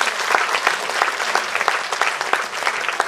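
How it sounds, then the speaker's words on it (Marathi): Audience applause for students after a Kathak dance performance at a school cultural event in Mumbai, steady dense clapping filling the whole stretch without pause. "जोरदार टाळ्या या विद्यार्थ्यांसाठी."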